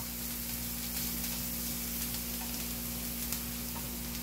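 Chopped onion sautés in a hot pan for a fried egg and corn dish, giving a steady, close sizzle and crackle throughout with no talking.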